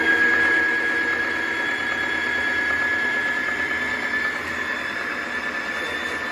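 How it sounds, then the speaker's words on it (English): Capresso Coffee Team Pro Plus grinder running its cleaning cycle, a steady whirring motor drone with a thin high whine, holding level for several seconds and easing slightly toward the end, with no talking. "It's going to clean the grinder."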